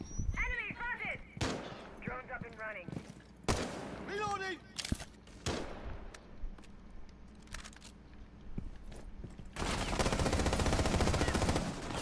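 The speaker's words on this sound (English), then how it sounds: "I'm getting shot from two angles." Gunfire in the tactical shooter Rainbow Six Siege, scattered shots and a sustained burst of automatic fire near the end, mixed with game sound effects and an occasional voice.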